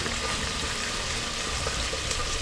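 Onions frying in hot oil for chicken biryani give a dense, steady sizzle heard up close, continuous and loud, with no talk.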